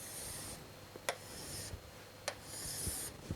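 Marker or chalk strokes drawing a quadrilateral on a board, a quiet rubbing scrape in several short sweeps with brief taps between them, faint against a low steady room hum.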